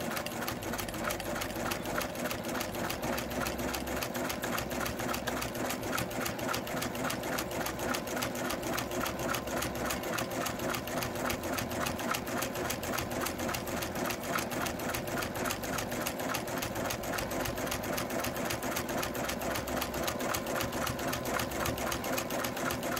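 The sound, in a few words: sewing machine quilting a spiral on a quilt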